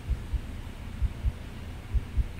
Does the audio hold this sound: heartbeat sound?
yes